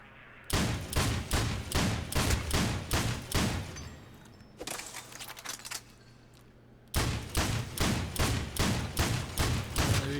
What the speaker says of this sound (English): let's see how well this shotgun does